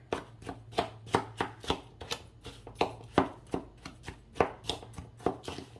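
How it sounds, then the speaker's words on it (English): Spoon breaking up brown sugar in a bowl, a regular series of about a dozen close, sharp scraping taps over a low steady hum. "I want to grab my spoon, break up that brown sugar here"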